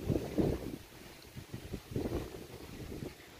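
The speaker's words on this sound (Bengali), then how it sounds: "কি ভাল লাগছে গো, এত হাওয়া এত হাওয়া। দেখো গাছগুলো কত দুলছে।" Strong wind on a cloudy, rainless day sets trees swaying. It comes through as gusty, low rumbling buffets that surge and fade, with no voices.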